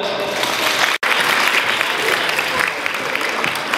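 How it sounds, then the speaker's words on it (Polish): Loud, sustained applause from an audience, dense clapping with a brief break near the start, continuing evenly to the end. "Więc na dobry początek wielkie brawa!"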